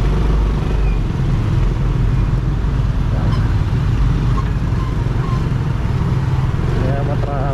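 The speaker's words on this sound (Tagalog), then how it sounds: "maraming sasakyan." Steady loud engine and wind roar while riding a motorcycle through midday road traffic on a trip to Tacloban, with passing vehicles blending into a constant rumble.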